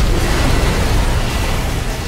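A loud, sustained rumbling blast from an explosion in the video game Devil May Cry 5, a dense low roar filling the whole moment with no clear start or end.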